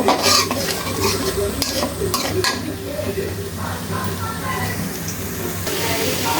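Dal cooks in a pot in a home kitchen while a spoon stirs and clinks against the metal, a close, busy scraping over a low simmering sizzle, with a faint voice in the background.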